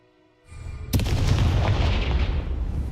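Confringo fire explosion spell in the video game Hogwarts Legacy, a sudden loud booming blast after a brief quiet lead-in, followed by a sustained roaring, crackling rumble.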